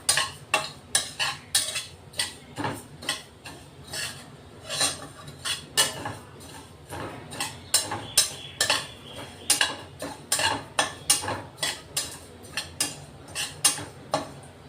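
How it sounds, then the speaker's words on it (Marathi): Cumin seeds being dry roasted in a pan for coriander spice powder, heard as steady, rhythmic scraping and clinking of a utensil stirring against the metal, close and fairly loud with no talking. "जिरे भाजून घेऊ आधी आपण। चांगला खमंग भाजायचा हा मसाला"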